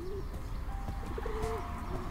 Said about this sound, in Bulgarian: О, гълъби! Здравейте бе!